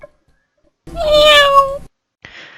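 A cat gives one clear, drawn-out meow of about a second, loud and close, in an otherwise quiet moment, followed by a brief faint hiss-like noise.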